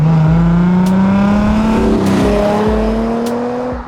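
A car drives past close by with a loud engine note that climbs steadily as it accelerates, with a few brief shifts in pitch and no talk.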